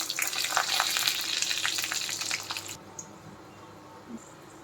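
Tempering spices crackle and sizzle in hot oil in a pan for an eggplant fry, a bright busy frying hiss that abruptly drops to a quiet simmer with a few faint pops.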